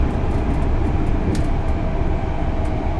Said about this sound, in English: We gotta press the emergency stop button.